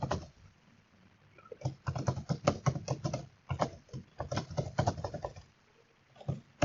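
Quick irregular clicking of keys on a computer keyboard while code is typed, in bursts of rapid taps separated by short pauses, fairly close and moderately quiet.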